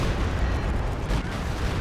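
Mortar fire in a real-time strategy video game match, heard as dense, continuous rumbling booms and blasts that fill the short stretch at a loud, steady level.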